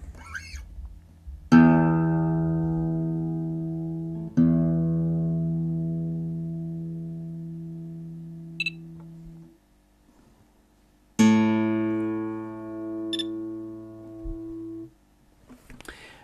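A Boss TU-88 tuner gives two short, faint high beeps as its accu-pitch in-tune confirmation. Plucked guitar strings ring and slowly decay around the beeps.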